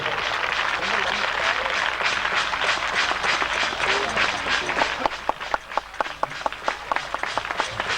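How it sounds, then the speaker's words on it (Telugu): Audience applause at an anniversary meeting: dense, steady clapping from a crowd that thins into scattered individual claps near the end, with a voice speaking over it. "అందరూ చప్పట్లు పట్టండి. ఆనందంగా సంతోషంగా."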